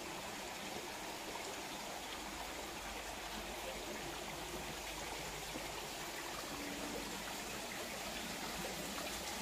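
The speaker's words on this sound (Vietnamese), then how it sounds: "thác nước này cũng rất là mát luôn nha mọi người" Waterfall at Suoi Do pagoda, a constant dense rush of falling water that fills the whole stretch evenly, close and steady with no breaks.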